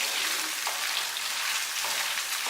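Shrimp frying in a hot pan for a short time, giving a steady, close sizzle that holds evenly throughout with no voices.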